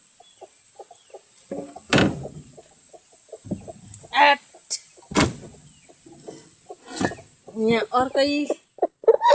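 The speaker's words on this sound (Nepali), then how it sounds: "यो चाहिँ एकदम लोकल अर्ग्यानिक कुखुराहरू चाहिँ यसरी पनि पालिरहेको छु" Local organic chickens kept by a farmer cluck in short, scattered bursts with a few louder calls near the end, mixed with someone speaking Nepali close by.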